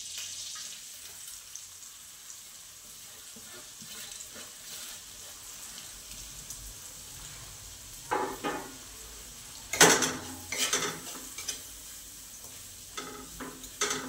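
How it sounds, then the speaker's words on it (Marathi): Ground green-chili masala sautéing in oil over low heat for a brinjal curry: a soft, quiet sizzle with occasional louder scrapes and clinks of a spoon against the pan, no voices. "कमी गॅसवरतीच आपल्याला परतवायचा आहे हा मसाला।"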